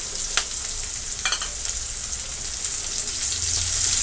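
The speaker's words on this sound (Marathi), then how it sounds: "आता आपण कांदा कापून घेतलेला तो टाकणार आहोत त्याच्यामध्ये" Chopped onion sizzling in a pan of browned garlic, a steady loud frying hiss with a few brief scraping stir sounds, for a high-protein soybean dish.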